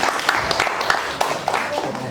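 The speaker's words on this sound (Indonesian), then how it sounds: "tepuk tangan beliau" An audience at a workshop in Semarang applauds, a continuous spread of clapping with a few sharper claps standing out and faint voices underneath.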